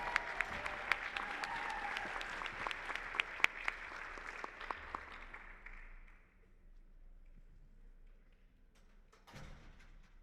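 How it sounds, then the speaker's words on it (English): An audience at a dental hygienist awards ceremony gives a round of applause: steady, fairly faint clapping that fades out after about six seconds, followed by near-quiet with a brief thump at the end. "Big applause for Janet."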